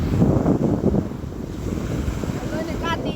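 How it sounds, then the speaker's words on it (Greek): Rough sea with heavy waves and strong wind, a continuous roar of surf and gusts buffeting the microphone, loud and close with no voices. "Εδώ έχουμε μια πενταβρώμικη θάλασσα. Επειδή έχει πολύ κύμα."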